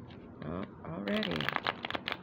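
Cards riffle and shuffle in quick bursts, with a brief cascade of ruffling followed by sharper flicking clatter, close and fairly loud.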